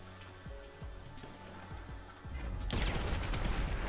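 Sniper rifle gunfire in GTA 5 during a football match, with scattered low thumps and impacts giving way to a loud, dense burst of shooting near the end.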